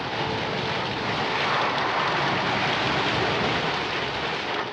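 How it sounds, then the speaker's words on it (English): A fierce thunderstorm over the Pacific Ocean, heard as a loud, unbroken roar of wind and rain rumble with no distinct breaks, dense and close throughout. "This storm is the worst I've ever seen."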